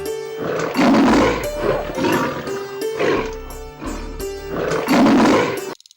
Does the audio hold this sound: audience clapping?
no